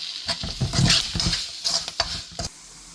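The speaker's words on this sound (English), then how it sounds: "put a little oil and little rice flour, and then keep stirring it" Okra frying in oil with a little rice flour, stirred in a pan: a few close scraping strokes over a soft sizzle, tapering off after a couple of seconds.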